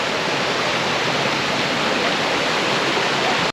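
A small waterfall on a forest trek at Los Dinamos, Mexico, a loud, steady rush of falling water heard up close with no other sounds.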